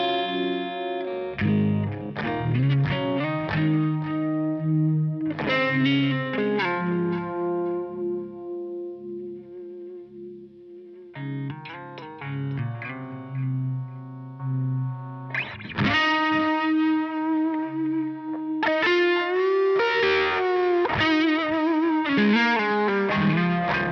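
An electric guitar on a clean setting through a Line 6 Helix modeler, ringing chords and picked notes with sustained tones and short pauses, clear and close with no voices.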